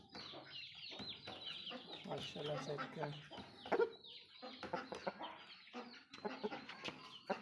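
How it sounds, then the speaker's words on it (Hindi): Fighting roosters clucking and squawking close by in bursts, while someone talks over them. "दोनों लड़ाई वाले मुर्गे हैं"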